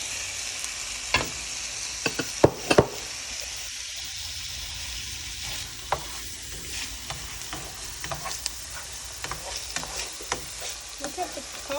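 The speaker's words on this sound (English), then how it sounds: "So I'm gonna add in the peppers so the peppers can be soft." Peppers sizzle and fry in a pan during a first attempt at lasagna, with a steady hiss broken by several sharp scrapes and clatters of stirring, loudest early on and then lighter, scattered knocks.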